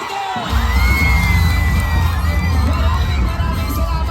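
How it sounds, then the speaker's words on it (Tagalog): A large rally crowd in Tondo, Manila cheers, shouts and claps to welcome Vice President Sara Duterte, a loud, sustained roar of voices with whistles and whoops running steadily throughout. "ating salubungin ng mainit na palakpak at sigawan"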